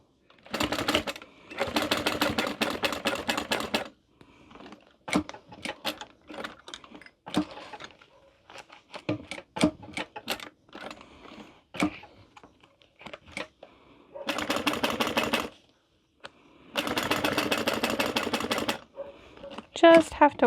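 A sewing machine runs a 1/8-inch stitch through the layered fabric of a Vestibule mini wallet, in several loud rhythmic bursts of a few seconds each, broken by pauses filled with softer handling clicks and a voice talking.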